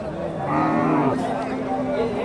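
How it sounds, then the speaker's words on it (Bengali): A Shahiwal cow moos at a busy cattle market in Bogura, one long drawn-out call with a clear tonal pitch, close to the microphone over a steady murmur of crowd noise. "এখানে সুন্দর একটা গাভী দেখতেছি"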